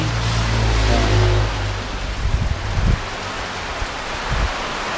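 Heavy rain from Typhoon Paeng pours as a steady, loud broadband hiss, with low rumbles and a few thuds of passing vehicles or wind underneath, and no talk.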